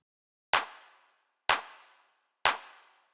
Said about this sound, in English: next thing is this hard snare